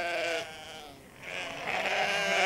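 Domestic sheep at a farm bleat in long, wavering cries, close and fairly loud, with no other sounds around them.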